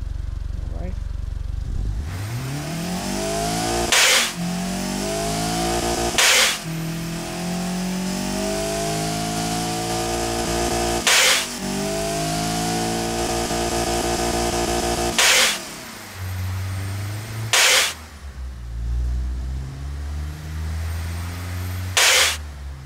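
A simulated car engine in the Automation video game revs up and down repeatedly with rising and falling tonal sweeps, loud and close. Sharp broadband clicks break in at intervals throughout.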